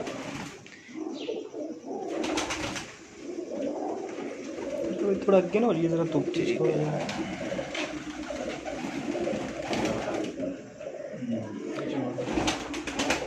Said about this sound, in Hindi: ये भी गोल्डन कबूतर है पर बहुत ही आउट क्लास रिजल्टेड कबूतर है